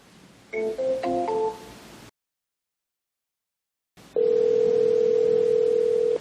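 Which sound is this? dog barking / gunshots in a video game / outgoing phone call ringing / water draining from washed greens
outgoing phone call ringing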